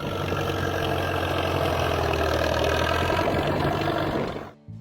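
An Allis Chalmers WD tractor with a four-cylinder, 201-cubic-inch engine idling close by, a steady low chugging rumble with a slight knock that holds constant before cutting off abruptly near the end.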